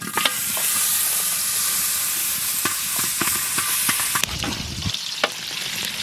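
Whole spices, bay leaf, cinnamon, black pepper and green and black cardamom, fry in butter in a wok for shahi paneer, giving a steady, loud sizzle with sharp pops and crackles as they are stirred, with no talking.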